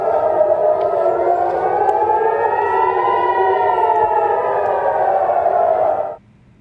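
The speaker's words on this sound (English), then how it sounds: "Air raid sirens rang out in Tel Aviv as Israel intercepted the long-range projectile." Air raid sirens wail over Tel Aviv during a Hezbollah rocket attack, one loud sustained rising-and-falling tone that holds for about six seconds before cutting off abruptly.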